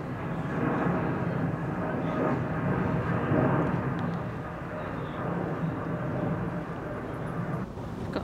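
Passing airliners heard near Windsor Castle from a widebeam canal boat on the river, a steady broad roar of jet noise lasting throughout, fairly loud and continuous, with occasional faint talk.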